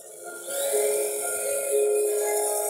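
Small servo motors whirring as a WALL-E robot toy turns its head, a steady high-pitched mechanical buzz that rises after a moment and holds close and fairly loud, with no talking.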